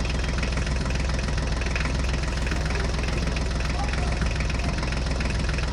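A cartoon tractor engine runs steadily, a continuous low rumbling idle with a knocking pulse, dense and constant throughout at close range.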